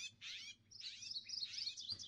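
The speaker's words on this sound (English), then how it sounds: "A black-throated magpie." A black-throated magpie from the Sonorama bird mod for Minecraft Java 1.16.5 gives bright, chattering call bursts, one short burst followed by a longer run of squeaky notes, clear and alone over quiet background.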